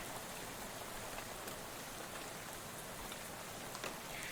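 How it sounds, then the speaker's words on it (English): Rain spatters steadily on a bus window in Shadows Over Loathing, a soft even hiss of drops, faint and continuous with no other sounds. "you're dozing off to the sound of rain spattering on the window beside you"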